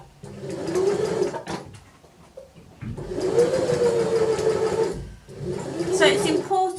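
A sewing machine stitching around the outside edge of Peter Pan collar pieces, three steady humming runs of close, whirring stitching with short pauses, and a person talking over it.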